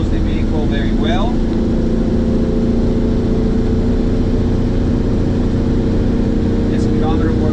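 1957 GMC pickup driving at about 50 mph, its engine droning steadily and loudly throughout with road noise; a faint voice briefly speaks over it.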